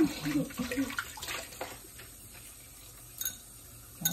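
Water running from a tap during washing with soap, a faint splashing trickle with soft handling sounds, mostly quiet, with brief voices nearby.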